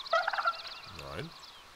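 Wild turkey gobbling in the hunting game theHunter: Call of the Wild in a New England setting, a short rapid rattling gobble at moderate distance, while someone speaks quietly under it.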